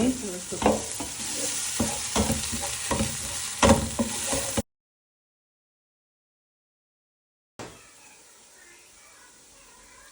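Onions sauté in a hot pan while a spoon stirs and scrapes for a few seconds, then silence, then a quieter frying hiss returns.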